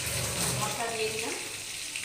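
Water-free ground spice paste hits hot oil in a pan for a vegetable curry with potato, pointed gourd and soya chunks, giving a brief close burst of hissing sizzle.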